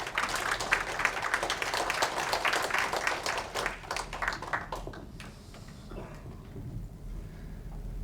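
Audience applause at a lecture hall talk, brisk clapping for about four seconds that thins out and fades into quiet room noise.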